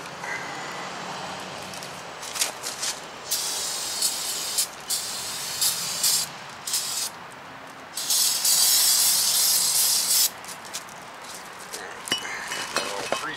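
Brake cleaner sprays onto the front brakes of a 2005 Lexus ES330 in loud, close hissing bursts of varying length, with short pauses and light metallic clinks between them.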